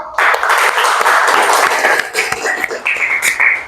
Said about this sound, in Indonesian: Oke, beri aplaus untuk kita semua.